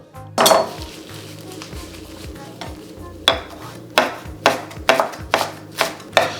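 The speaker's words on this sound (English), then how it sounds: "let's get the cilantro cut up" A knife chops fresh cilantro on a cutting board, sounding as a few sharp knocks and then a quickening run of crisp, close taps.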